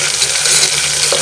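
Onion, capsicum, cumin and curry leaves roast in a pan with a loud, dense, steady sizzle filling the whole moment, close and without speech.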